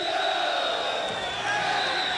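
Paulista football fans celebrating in a packed stadium during the 2005 Copa do Brasil, a dense, sustained roar of cheering and shouting from a huge crowd, loud and continuous.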